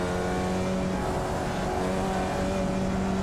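Formula Vee race car at Tsukuba in iRacing, its engine a steady raspy drone with a brief dip in pitch around a downshift before throttling back up, continuous and close.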